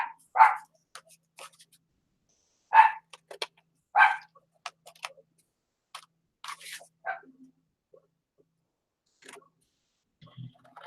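Indoor dog barks come in short bursts, three clear barks early on and then softer scattered yips, with light tapping and paper-handling noises between them.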